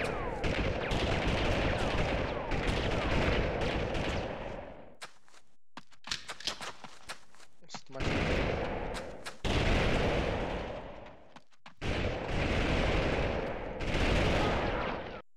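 Rifle and automatic rifle fire in Army Men 3D on PS1, loud dense bursts of shots separated by quieter pauses, close and sustained across several volleys.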